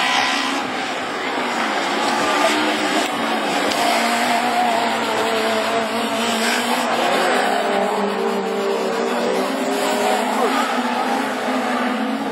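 Rallycross Super 1600 race cars at Lessay roar past in a continuous, loud pack, engines revving with rising and falling pitch and occasional tyre squeal, while a commentator's voice runs faintly underneath throughout.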